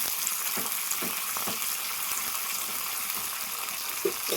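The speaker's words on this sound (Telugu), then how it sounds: "చక్కగా తాలింపు వేగుతుంది చూడండి" Curry leaves sizzle in hot oil as tempering for a green chilli and tamarind chutney, a steady close frying hiss that continues throughout.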